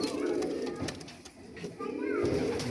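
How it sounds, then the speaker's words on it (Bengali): Domestic pigeons coo steadily up close, soft rolling calls repeating throughout, with faint voices in the background. "কিছু কবুতর বিক্রি করব।"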